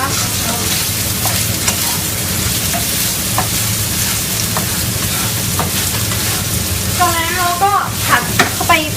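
Pad thai with egg is stir-fried in a pan, producing a loud, busy sizzle with repeated scraping and tossing strokes, and a voice speaks faintly near the end.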